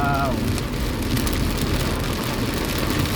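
Heavy rain pours down in a steady, dense roar that fills the whole stretch without letup, loud and close, with a brief voice at the very start.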